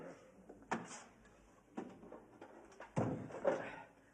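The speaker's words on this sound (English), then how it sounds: "Shut the door." An office door is pushed shut indoors, giving a few short, spaced thuds and clunks at moderate loudness over quiet room tone.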